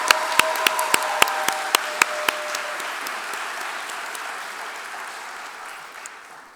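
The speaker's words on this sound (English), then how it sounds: "If we could just give him a round of applause if he's watching from home." A round of applause at a white coat ceremony, starting with sharp individual claps that blend into a steady, sustained clapping from a crowd, fading gently toward the end.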